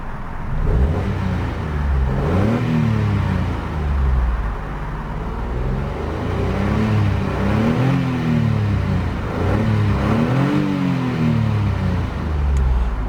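A 2015 Toyota Aygo 1.0 VVT-i engine hums close by, revving up and down in repeated rising and falling sweeps over a steady low drone.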